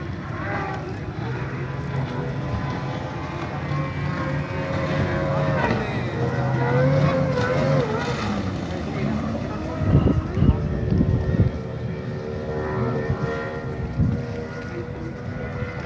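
Racing inflatable speedboats roar across Heraklion harbour with modified engines, a loud sustained drone with wind buffeting, while someone talks over it.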